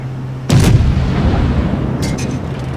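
A battleship fires high-explosive shells in World of Warships, one heavy booming salvo with a rolling low rumble that lingers, followed by faint distant impact cracks, loud and close, with no voices.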